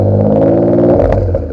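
A car engine revs hard through its exhaust, a loud, close, deep burbling roar with crackles that drops and settles near the end.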